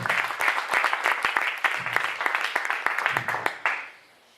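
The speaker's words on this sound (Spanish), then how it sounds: "Denle ese aplauso a Jesús." A church congregation claps together, a dense run of applause with a few sharper individual claps that fades out quickly at the end, with faint voices underneath.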